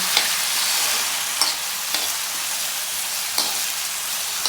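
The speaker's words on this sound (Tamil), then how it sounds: "இப்போ இதை நல்லா பெரட்டி விடுங்க" Potato pepper fry sizzles in an iron pan while being stirred, a steady close hiss broken by periodic scraping strokes of the spoon against the metal.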